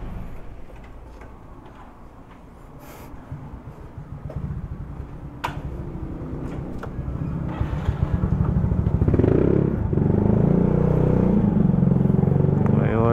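A motorcycle engine runs and revs up while riding on a road in Batangas City, a rapid ticking thrum that grows louder and fuller toward the end, with someone talking over it.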